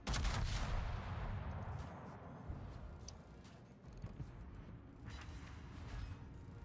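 Naval guns fire in a World of Warships sea battle, a loud opening blast followed by rolling booms and scattered further shots across the scene, with no voices.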